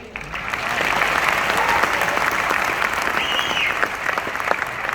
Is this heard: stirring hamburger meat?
no